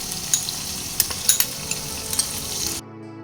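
Spice paste of ground masala, turmeric and Kashmiri red chili powder mixed with a little water sizzles in a pan for fish curry, with several sharp scraping stirs over a steady hiss before it cuts off abruptly.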